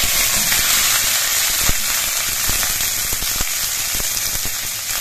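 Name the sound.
sliced onions frying in oil with spices and green chillies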